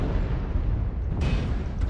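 Continuous booming blasts from short-range missiles exploding in MechWarrior Online, a dense, rumbling barrage of overlapping detonations with a sharper burst midway, loud and steady with no talk.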